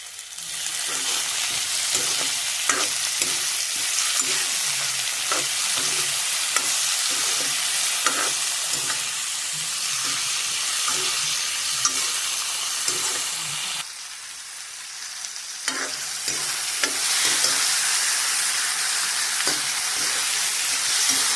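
Sliced potatoes fry steadily in a hot pan for the urohi dish, a continuous loud sizzle broken by regular scrapes and clinks of a spoon stirring, with a brief dip in the hiss midway.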